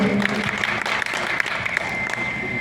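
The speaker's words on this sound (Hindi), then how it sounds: "और एक बार मैं चाहूंगी आप लोग अपने जोरदार तालियों से हमको अपना स्वागत कीजिए।" At a Bhojpuri poetry gathering, an audience welcomes a devotional singer with loud, sustained clapping over a steady ringing tone from the sound system.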